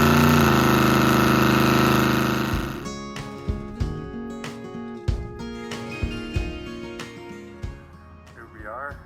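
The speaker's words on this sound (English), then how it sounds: "You can hear the Corvette running in the background." Corvette with a small block Chevy engine idling, a loud steady rumble at first that drops to a lower background drone, broken by intermittent clunks and knocks nearby, with no speech.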